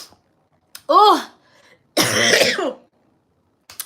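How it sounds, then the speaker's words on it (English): A person with a cold clears their throat, then gives a harsher, longer cough a second later, both loud and close with quiet gaps between. "let me get a cough out, guys. I have a cold."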